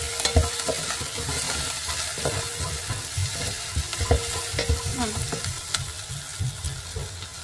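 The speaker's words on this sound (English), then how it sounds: "Onions and the garlic. Let's make it not really like super brown." Onions and garlic fry in a pan with a steady sizzle, broken up by repeated scraping and stirring strokes from a utensil, close up and moderately loud.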